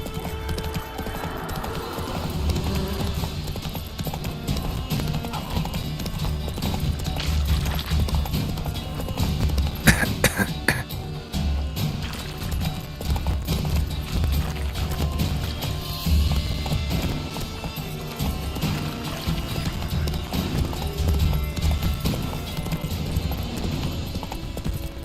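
Hooves of the horse Roach galloping in the video game The Witcher 3, a fast, steady clip-clop that runs continuously and close, with one brief sharper knock partway through.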